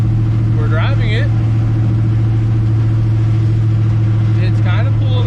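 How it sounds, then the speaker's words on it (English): A 1968 Chevrolet C10 pickup drives with a loud, steady low engine drone throughout, a faint clatter of loose junk rattling inside the cab and brief bits of speech over it. "we're driving it, and we got some junk in here kind of rattling"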